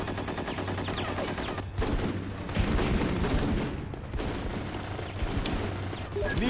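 Sustained gunfire in the military squad game Full Spectrum Warrior, with dense overlapping rifle bursts and booming shots through the stretch, punctuated by louder volleys and a steady mechanical hum beneath.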